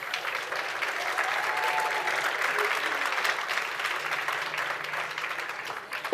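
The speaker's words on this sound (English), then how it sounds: "A big round of applause for the panel." Sustained audience applause fills a conference hall after a media panel discussion, a steady dense wash of many hands clapping at even loudness throughout.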